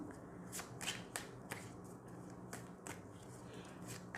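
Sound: shuffling a deck of cards

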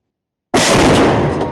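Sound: tank gun shot

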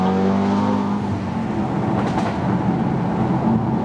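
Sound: tuned Audi TTS DSG gearshift exhaust farts

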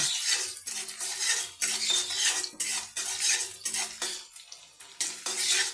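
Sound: onions frying and being stirred in hot oil in a wok

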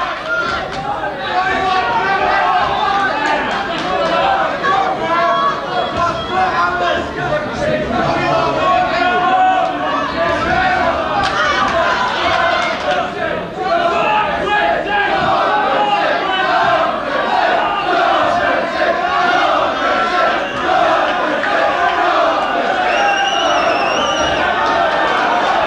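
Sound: home crowd cheering at a boxing match

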